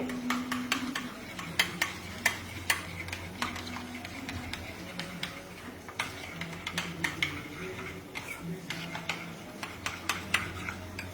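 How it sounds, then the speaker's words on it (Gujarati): Mayonnaise is being mixed in a bowl with a spoon, giving a run of quick, close clinking and scraping taps in an irregular rhythm over a soft background hum. "અને સાથે મેયોનીઝ પણ લઈએ છીએ. હવે એને મિક્સ કરી લઈએ."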